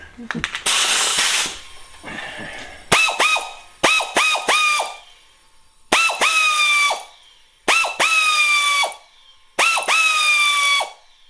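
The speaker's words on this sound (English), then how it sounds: "Switch over to a little air ratchet here." A pneumatic air ratchet fires in short, loud rattling bursts, about six of them separated by brief pauses, close by and with no talking.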